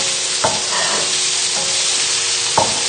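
Sausages and pesto sizzle steadily in a pan over a medium burner at full heat, with a few brief scraping stirs breaking through the constant frying hiss, close and fairly loud.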